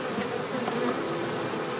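Honey bee colony being trapped out of a wall, a dense, steady close buzz of many bees droning without pause.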